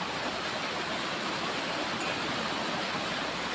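Floodwater in a rain-swollen river surges fast with a constant heavy rushing roar, loud and near, filling the whole stretch without pause.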